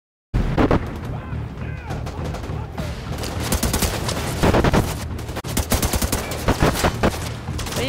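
Rapid bursts of gunfire from The Division 2 video game, dense fusillades and machine-gun rattles with booming impacts, loud and continuous throughout, with a voice faintly underneath.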